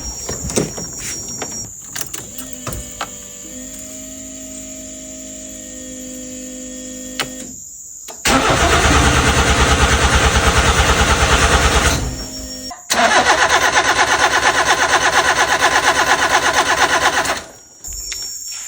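A long-unused Nissan Sentra N13 with a freshly fitted battery cranks loudly in two sustained bursts of about four seconds each, separated by a short pause, without catching. Quieter clicks and rustling come before the cranking.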